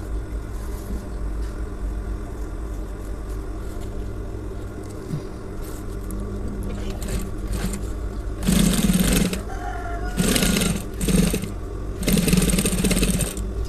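A sewing machine stitches a shirt collar, its motor humming steadily underneath, with louder whirring bursts of stitching toward the end.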